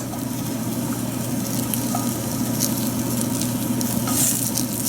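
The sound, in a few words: fennel wedges charring in a pan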